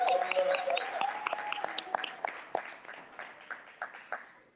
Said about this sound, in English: Give him a strong hand clap.